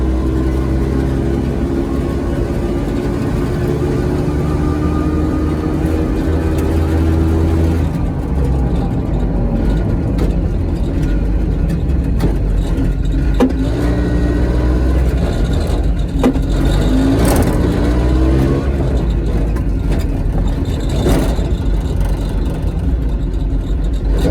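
Piaggio Ape 50 three-wheeler engine driving in traffic, a steady low drone with harmonic bands that ease off partway through as the small engine coasts, continuous throughout with no talk over it.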